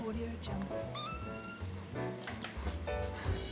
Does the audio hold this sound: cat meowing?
yes